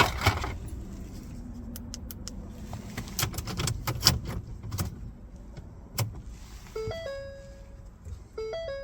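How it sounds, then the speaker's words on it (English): On a 2007-2014 Ford Edge, a key goes into the ignition with faint scraping and a run of sharp metallic clicks as it turns, followed by a few soft electronic chime tones from the dashboard. "Now you need to insert the new key into the ignition and turn to on position"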